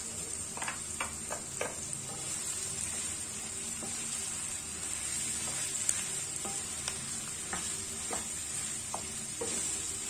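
Salmon and mushrooms sizzle steadily in a frying pan, a constant hiss with occasional soft clicks and scrapes, nearby and fairly quiet.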